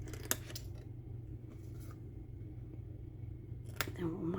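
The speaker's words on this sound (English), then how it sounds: "Then we'll come back in and cut these little snips off." Scissors snipping small die-cut paper pieces for a papercraft fireplace, a few quick, close cuts over a steady low background hum, with faint speech nearby.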